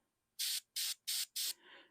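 An airbrush sprays silver paint onto a miniature figure's helmet in four short, even hissing bursts with brief gaps between them, close and clear, followed by a softer trailing hiss.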